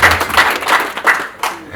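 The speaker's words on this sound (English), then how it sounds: "please give yourselves a bigger round of applause" Audience applause at a business launch event, bursts of clapping swelling and fading across a short stretch, fairly loud with a crowd feel, no speech over it.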